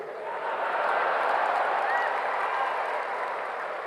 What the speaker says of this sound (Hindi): ताली अपने आप ठोकेगी, देखना